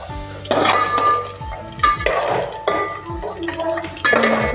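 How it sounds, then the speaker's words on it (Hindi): Sweet milk vermicelli (seviyan) is stirred in a pan, with a spoon scraping and clinking against the metal in repeated strokes, loud and close over a light sizzle. "अच्छे से चलाएंगे"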